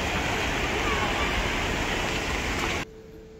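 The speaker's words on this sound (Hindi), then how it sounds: "ये झरना यहाँ से बह रहा है," A waterfall near Mumbai, flowing somewhat low after lighter rain, roars loud and close as a constant wash of rushing water, then drops suddenly to a much quieter background near the end.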